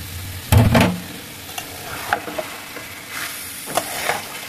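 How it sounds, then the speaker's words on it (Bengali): Fried meat is stirred into spice paste in a pan, giving a low crackling sizzle with a heavy clatter of the spoon near the start and scattered lighter scrapes afterward, close by. "মাংসটা ভালো করে কষিয়ে নিব।"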